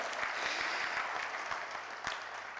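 A lecture-hall audience claps at a memorial lecture, a dense, fairly faint spatter of applause holding steady for a few seconds with a few sharper claps standing out.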